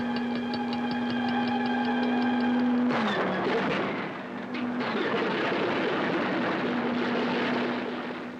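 Heavy long-range bomber aircraft engines drone steadily in wartime newsreel footage, a sustained propeller hum with a shift partway through and continuing engine roar, no talking.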